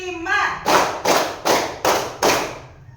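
Fifth-grade primary pupils clap in unison on a teacher's count, a brief voice followed by five sharp, evenly spaced group claps, close and loud, each ringing out before the next.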